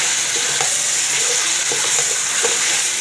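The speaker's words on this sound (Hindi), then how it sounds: "चिकन हमारा तकरीबन फ्राई हो चुका है" Chicken frying in a pan for Chinese biryani, a steady close sizzle with occasional soft stirring clicks, no talking.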